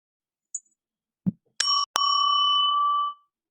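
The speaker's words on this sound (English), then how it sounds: "let me gong you and make it all official" A gong sounds to mark the end of a speaker's time at a lightning talks event: a few small knocks, then one clear struck ring that holds for just over a second before cutting off.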